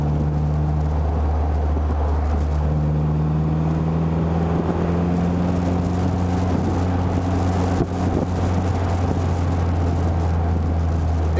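A 1955 Austin Healey BN1 sports car driving, its old four-cylinder engine droning loud and close with steady low tones that climb and settle as it pulls along, no voices.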